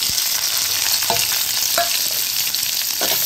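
Onions frying in a pan for a potato curry, a steady sizzle with a few sharp stirring scrapes and crackles, no voices.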